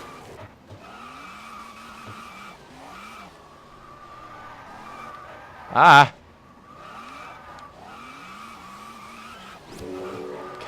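Car skidding in the racing game Test Drive Unlimited, a sharp loud tire screech bursting out for about half a second over a steady engine drone, with a voice talking and exclaiming around it.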